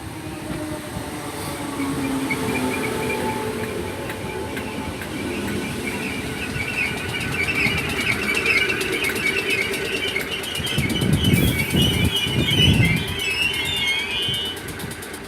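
A Merseyrail Class 508 electric train pulls out of Kirkdale station on an Ormskirk service: a steady, close rumble and motor hum builds, with wheel clatter growing louder near the end.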